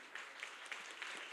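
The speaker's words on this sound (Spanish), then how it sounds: "Entonces les daremos un aplauso a los tres," Faint, steady applause from a church congregation during a Spanish-language sermon, a soft wash of many hands clapping at a distance.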